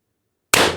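A single sharp shot from a Mercury Rise HPA paintball riot ball gun running on 1000 psi air, sudden and loud after silence, with a short decaying tail.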